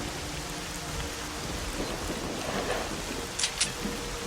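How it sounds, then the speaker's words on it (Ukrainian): Loud rain and distant thunder in the video game S.T.A.L.K.E.R.: Shadow of Chernobyl, a steady dense hiss of rainfall with low rumbling swells and a few sharper crackles near the end, no talking. "Дуже голосний дощ, до речі, у грі."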